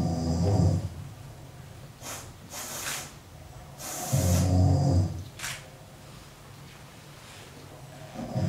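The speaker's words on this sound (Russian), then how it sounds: "Он тихонечко сопит." A sleeping crocodile snuffles and snores softly, with slow breathy snorts and hisses coming in irregular bursts, close and moderately loud, with no talking.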